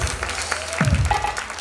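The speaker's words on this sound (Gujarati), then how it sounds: "તાળીઓથી વધાવીએ." Audience applause welcoming a guest at a community gathering of a youth group and bhajan mandal, a steady burst of clapping over low hall murmur, with a brief voice or two underneath.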